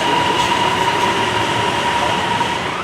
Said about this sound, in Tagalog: Kada 5 minuto, may dumarating na tren.